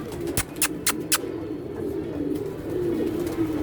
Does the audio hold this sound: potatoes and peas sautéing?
no